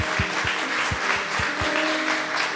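A church congregation applauds after a wedding vow moment, a steady wash of clapping at moderate level with some low thumps and a faint tonal hum underneath.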